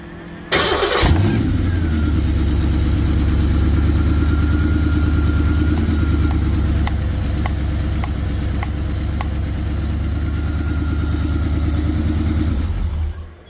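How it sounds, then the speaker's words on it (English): A Ford Anglia street rod engine starts with a loud burst and then runs at a steady, rough idle. Sharp pops at irregular intervals come from a cylinder crossfiring back through the carburetor, and there is no talk. "When number 5 cylinder fires, it crossfires and pops up back through the carburetor."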